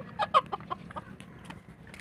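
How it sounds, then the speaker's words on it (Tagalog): Several short clucking calls from a rooster, moderately close, over a low steady background hum. "Tandang kasi yan."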